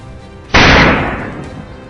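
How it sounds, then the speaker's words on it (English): A single sharp gunshot during a wild boar hunt in a field, loud and close, with a sudden blast followed by a long rolling decay over quiet outdoor background. "the gunshot rings out almost simultaneously"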